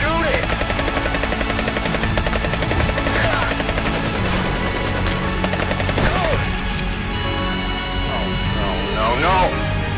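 Video game gunfire crackles in rapid bursts of machine-gun fire and single shots over a constant loud rumble like a hovering helicopter, with shouted voices of characters heard under the noise throughout.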